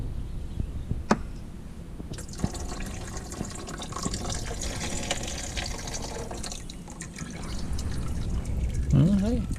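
Coolant drains from a 1994 Honda Del Sol VTEC, a steady watery trickle and splash that runs for several seconds close to the microphone, with someone talking over part of it.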